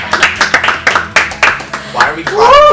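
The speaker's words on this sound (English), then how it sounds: "Why are we clapping?" A small group of people clapping in short irregular bursts, close and loud, with voices and laughter mixed in.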